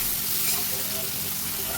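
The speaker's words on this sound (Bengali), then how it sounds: "পেঁয়াজটাও দিয়ে দিলাম পরিমাণ মতো। পেঁয়াজটা কিছুক্ষণ নাড়ব।" Sliced onions, added to a pan with cinnamon and cloves, sizzle and spit in hot oil while being stirred, a dense continuous frying hiss at close range with no voices.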